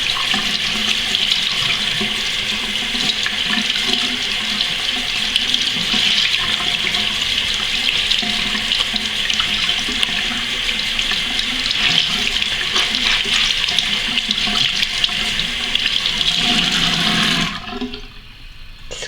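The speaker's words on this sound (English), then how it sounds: "Then I turn it on, run it under some water again, and squeeze out all of the excess." Tap water runs steadily into a sink as a beauty blender makeup sponge is held under the stream, a close, continuous splashing rush that lasts a long while before cutting off abruptly near the end.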